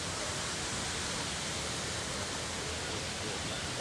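Tat Kuang Si waterfall near Luang Prabang, a constant broadband roar of falling water, steady and loud with no pauses and no voices.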